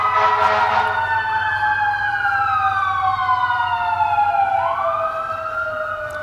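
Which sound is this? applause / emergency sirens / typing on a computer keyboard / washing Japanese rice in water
emergency sirens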